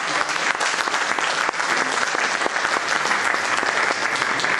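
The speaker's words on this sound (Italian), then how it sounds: "io approfitterei intanto per fare un applauso" An audience in Italy claps steadily for the mayor at a public meeting on citizenship income and pension. The dense, continuous applause fills the whole stretch without letting up.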